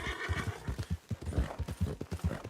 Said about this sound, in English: Oh, hey there, my horse.